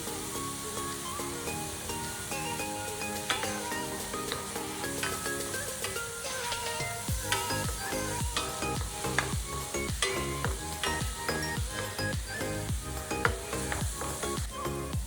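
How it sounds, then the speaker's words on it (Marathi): Mustard seeds and cumin sizzle and pop in hot oil in a pan while making kande pohe, with a steady crackling fry, scattered sharp seed pops and occasional stirring scrapes, close and continuous throughout. "आता आपण थोडंसं तेल टाकलं आहे आणि त्यामध्ये टाकलेले आहे मोहरी आणि जिरं."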